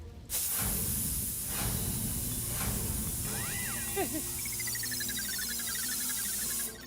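A pressure cooker hissing steadily as steam escapes, a loud continuous whistle-like hiss lasting almost the whole clip with a rising tonal squeal near the end, and faint voices briefly underneath.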